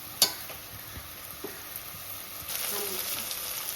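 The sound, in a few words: mint and green chilli sautéing in a pan for pulao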